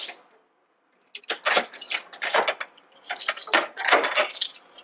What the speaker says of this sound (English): I found the keys.